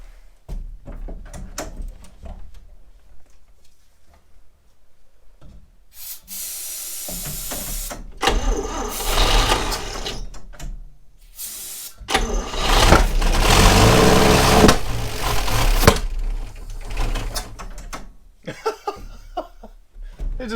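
A 1960 step van's engine cranks, catches and runs in rough, uneven bursts with sharp pops and backfires, loud and close, cutting out between attempts and surging again.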